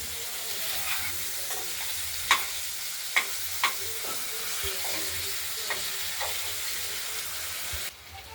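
Ground spice paste fries with already-fried potatoes for a pabda fish curry, a steady broadband sizzle with a few sharp spatula clicks and scrapes from stirring, ending in a sudden drop near the close.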